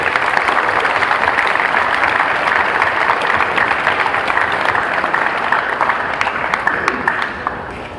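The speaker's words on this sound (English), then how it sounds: "Join me in a round of applause" Sustained applause from a large crowd at a high school senior awards ceremony, dense steady clapping that fades slightly toward the end.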